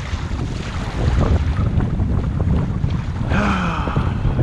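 Strong wind buffets the microphone out on open water during a kayak fishing trip in Central Queensland, a steady loud roar with splashing chop that continues throughout.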